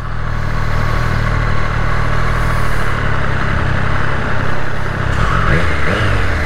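A 2020 Triumph Street Triple RS three-cylinder motorcycle engine idles, a loud, close, steady low rumble with slight throttle blips near the end and no talk.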